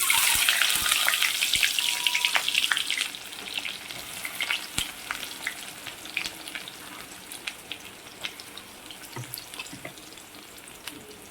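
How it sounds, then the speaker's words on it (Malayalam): Mustard seeds crackle and pop in hot oil in a pan while cooking a sprouted-gram thoran, a steady close sizzle with sharp scattered pops that eases slightly after the first few seconds. "കടുക് പൊട്ടി വരുന്നുണ്ട്."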